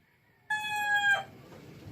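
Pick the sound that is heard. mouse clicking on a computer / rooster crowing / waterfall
rooster crowing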